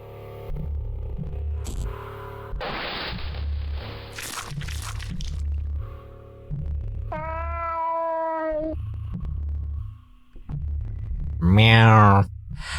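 A cat meows from the shadows in the Fear & Hunger video game, a clear harmonic call heard twice, once mid-scene and a louder rising one near the end, over steady low game ambience and scattered crunching effects.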